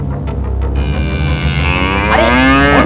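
An enraged bull in a Bengali children's cartoon bellows loudly, a long, wavering, rising moo with strong harmonics that swells toward the end over steady background sound, with no speech.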